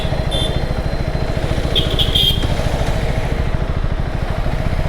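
A KTM 390 Adventure single-cylinder motorcycle engine running steadily at idle, close and loud with an even, rapid throb and light mechanical clatter, a brief higher whine partway through, no talk.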